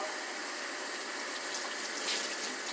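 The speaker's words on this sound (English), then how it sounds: "we get our wet rag. This time, we're going to rinse it out." Wet rag being rinsed in water while cleaning sneakers, a steady close splashing and trickling of water that continues throughout with no talk.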